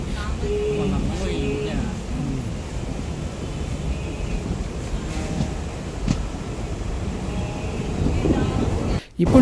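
A DEMU train runs between houses on the Falaknuma to Shivarampalli line in Hyderabad, giving a steady low rumble with faint wheel noise, while a voice talks over it.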